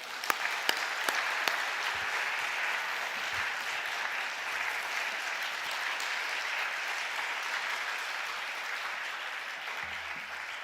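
Sustained applause from a church audience at a Friday late-night prayer meeting fills the space, a dense, even wash of many hands clapping with a few sharper claps near the start.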